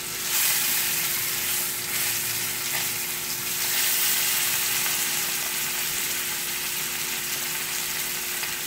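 Salmon fillets sizzle and fry steadily in a hot pan as they are flipped, a continuous close crackle with no talking.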